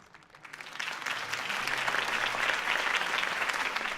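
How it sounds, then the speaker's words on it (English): A video game crowd breaks into sustained applause after a speech, swelling within the first second and holding steady and loud, a dense wash of clapping with no talk over it. "could have heard that applause"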